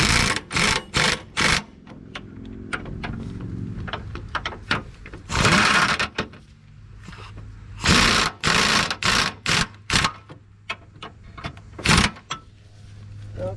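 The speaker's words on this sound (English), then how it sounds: "Run it down with the impact." An impact wrench tightens lift bolts on a Jeep, with loud rattling bursts: a quick cluster early on, a longer burst midway, then a run of short repeated hammering bursts near the end.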